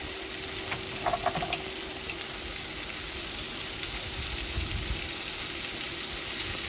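Celery sizzles steadily in a pot for pot roast, a continuous soft frying hiss with a few faint crackles and no talking.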